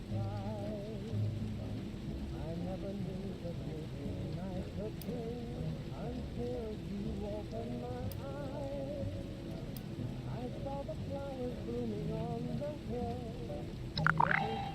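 A storm in Fallout 76 brings steady rain with low rolling thunder, a constant hiss that continues throughout while a voice talks over it, with a few sharper cracks near the end.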